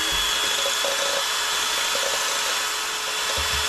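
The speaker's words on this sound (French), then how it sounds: "j'ai réglé ma perceuse sur 2" Power drill set to speed 2, fitted with a spoon, mixing mayonnaise: a steady, loud whirring hum runs throughout with a constant pitch and faint rattles from the mixing.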